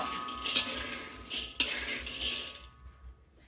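Kabok nuts roasting in a pan and stirred with a long spatula, metal scraping and clinking twice sharply, over a steady sizzling hiss, with no talking.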